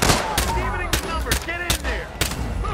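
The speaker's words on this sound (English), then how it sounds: "Who's shooting at me?" Gunfire in the Hitman video game cracks out in several sharp, loud shots at irregular intervals over a steady background, with some voice under it.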